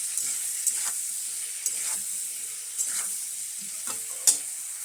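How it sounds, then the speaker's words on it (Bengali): Vegetables fry in oil in a pan for a simple chorchori. A steady close sizzle runs throughout, with a few soft stirring knocks spaced every second or so. "সবজিটাকে ভালো করে ভাজবো"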